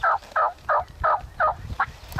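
A wild spring gobbler turkey in Wisconsin gobbles in six rapid, evenly spaced bursts, clear and fairly close, with faint outdoor background between calls.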